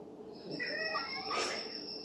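A small cat gives one faint, drawn-out meow against a quiet indoor background.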